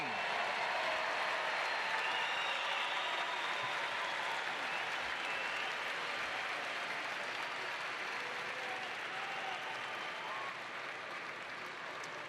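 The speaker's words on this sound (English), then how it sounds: "How about another round of applause for all of our graduates of the class of 2019?" A large audience at a fall university commencement ceremony applauds the class of 2019 graduates, a sustained and even roar of distant clapping filling a big hall, easing off slightly toward the end.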